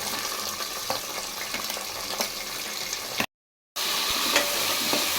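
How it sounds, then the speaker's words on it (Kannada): Two cut onions lightly frying for chicken biryani, a loud, continuous hissing sizzle with faint stirring scrapes, close by, dropping to a brief total silence near the end before the sizzle resumes; nobody speaks. "ಲೈಟಾಗಿ ಫ್ರೈ ಮಾಡ್ಕೊಳ್ಳೋಣ."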